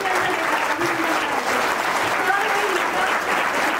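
An audience applauds loudly and continuously at a Guru Purnima felicitation ceremony for students who passed their 10th and 12th board exams, a dense, even wash of clapping close by with a voice faintly mixed in.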